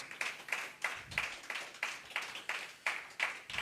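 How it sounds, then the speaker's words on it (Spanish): A church congregation claps together in a steady, rhythmic beat, about three claps per second, praising Jesus Christ during a sermon. The clapping is moderately loud and has no talk over it. "Dele un aplauso al Señor Jesucristo, hermanos, porque Él es digno."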